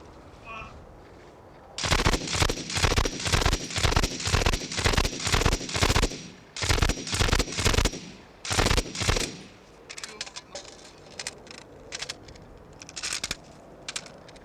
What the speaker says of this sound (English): Training with the machine guns was good